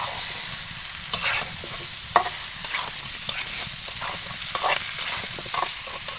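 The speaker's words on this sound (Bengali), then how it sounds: "আলু পটলগুলো মাছ এবং মশলার সাথে ভালোভাবে মিশিয়ে নেব" Potatoes, pointed gourd and shrimp are being stirred through spices in a pan, with a steady soft sizzle and repeated scraping strokes of a spoon, close and moderately loud.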